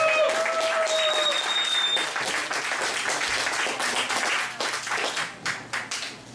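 Audience at a poetry evening gives warm, dense applause, many hands clapping steadily before thinning into scattered claps, with a voice briefly heard over it.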